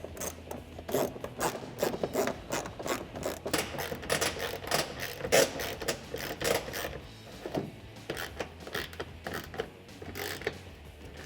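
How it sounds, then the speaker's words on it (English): A ratchet wrench reinstalls factory bolts while a pocket fender flare is fitted to a 2009-2018 RAM 1500, giving close, rhythmic bursts of clicking with metallic rubbing and no talk. "hold up your fender and reinstall your factory hardware"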